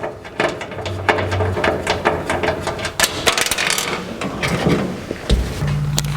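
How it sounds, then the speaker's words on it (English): Cutting off the threaded end of a Lokar throttle cable on a 1949 Chevrolet gasser, a run of close, sharp metallic clicks and snips with a short mechanical rasp, loud and alone. "So here we are cutting off the end of the cable."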